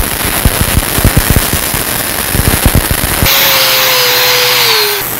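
Flux-core wire welding with no shielding gas on a 3G vertical plate test, a loud close crackle with rapid popping bursts, then a steady harsh hiss as the arc runs continuously, with a faint tone sliding downward.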